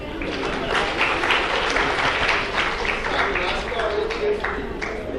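Audience applause at an All India Educational Conference bait baazi (Urdu poetry contest) in Aurangabad, a dense steady wash of many hands clapping that fills the whole stretch with crowd noise underneath.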